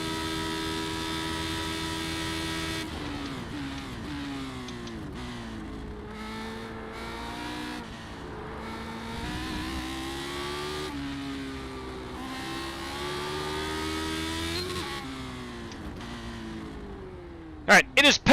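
A NASCAR truck in a sim racing game runs at Michigan through a chicane, its engine a steady droning whine that dips and climbs through braking and acceleration, with a voice talking over it and a few sharp clicks at the end.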